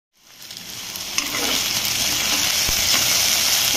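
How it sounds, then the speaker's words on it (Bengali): Okra (bhindi) frying in a pan gives a steady, loud sizzle that starts after a brief silence and holds constant, with a small clink of stirring partway through. "ভেন্ডি ভাজা হচ্ছে, এখনই খেতে বসে যাব আমরা।"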